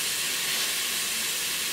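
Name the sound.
tomato added to hot pan of rougail, hissing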